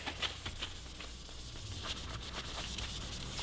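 A cloth rubs over a Yoshimura Alpha T slip-on exhaust with a Works finish on a 2018-2023 Kawasaki Ninja 400, wiping it down with rubbing alcohol in a steady, close, continuous scrubbing hiss.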